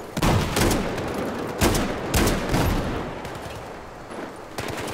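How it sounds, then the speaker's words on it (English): QBS-09 shotgun fire in Battlefield 4, a loud burst of booming blasts in close succession, then repeated shots at an irregular pace with crackling battle noise filling the gaps between them. "This shotgun is good."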